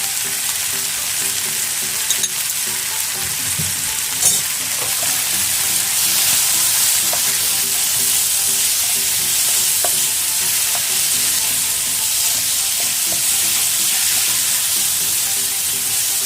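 Chicken frying in a pan while being stirred until dry: a loud, steady close sizzle with occasional light clicks and scrapes of the spatula against the pan.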